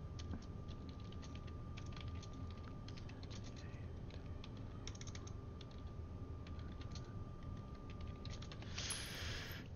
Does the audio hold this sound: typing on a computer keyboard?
yes